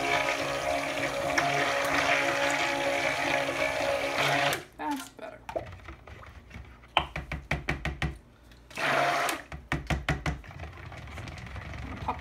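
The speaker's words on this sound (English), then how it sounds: "I'm actually going to pop the stick blender back in here" A stick blender buzzes steadily for a few seconds while mixing soap batter, then pulses in short bursts with knocks and pauses between them.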